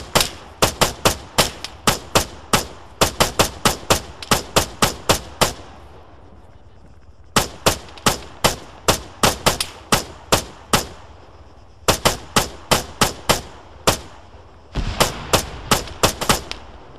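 Long bursts of machine gun fire in the combat game ARMA III, rapid evenly spaced loud shots in four volleys separated by brief pauses, close and harsh with no voices over them.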